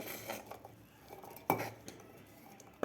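Cooled green peas are dropped into a mixer jar, producing faint scattered clinks and taps of metal and peas, with one sharper knock against the jar in a quiet kitchen.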